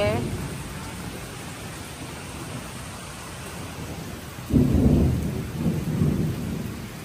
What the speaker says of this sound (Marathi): पाऊस बघा इथंपर्यंत आलाय आहे अर्धा पोर्च भिजत आहे आणि एवढं ढग वाजते